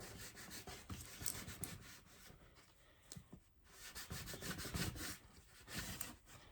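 A vinyl decal is scraped onto a Thermo-Flask tumbler with a Cricut-cut design, giving a soft, repeated rubbing scrape in uneven strokes close by, faint and continuous with no talk over it.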